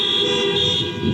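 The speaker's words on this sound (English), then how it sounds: "Honk your horn." A car horn blares in one continuous, loud, close toot at a roadside rally, steady and unbroken for just over a second.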